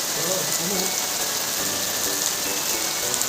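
Steady rain falling outdoors at night, a dense continuous hiss with scattered drips, heard alone at moderate level.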